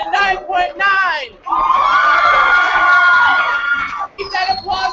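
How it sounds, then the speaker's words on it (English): A crowd at a youth poetry slam bout in Omaha screams, whoops and cheers loudly in a sustained swell of young voices that drops off sharply, then returns as scattered shouts. "Keep that applause going for Omaha Northwest."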